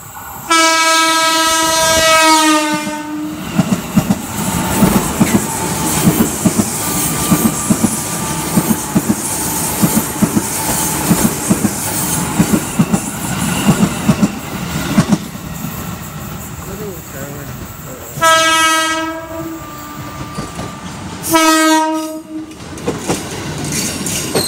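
An electric commuter train (KRL) rumbles past up close, wheels clattering on the rails, with loud horn blasts at the start and again near the end.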